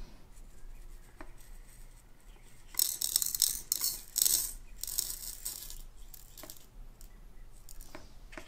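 Dried gold concentrate poured onto a scale during a Lynch Mining Black Label gold test, heard as a loose rattling patter of grains spilling onto the pan for a few seconds, fairly quiet and close, with lighter clinks before and after.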